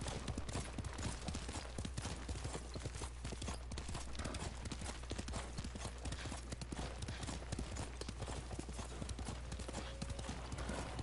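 Horse hooves clip-clop at a steady trotting rhythm in the video game Ghost of Tsushima, constant and prominent with a low rumbling bed beneath.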